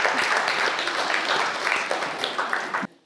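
An audience at a Paris magazine launch event claps in a dense, lively burst of applause that stops abruptly near the end.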